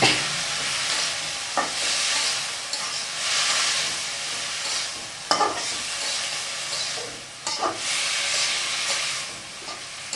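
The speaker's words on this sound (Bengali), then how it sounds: "এখন শুধু নাড়াচাড়া আর অপেক্ষা করা।" Shapla (water lily) stems fry in a pan with turmeric and dried chili while being stirred, producing a continuous loud sizzle and hiss broken by repeated scraping stirs.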